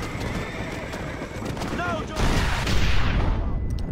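A horse in the Red Dead Redemption video game lets out a sharp whinny amid galloping hoofbeats and bursts of gunfire, with a voice talking over the loud, chaotic action.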